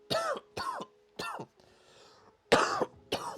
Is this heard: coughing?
yes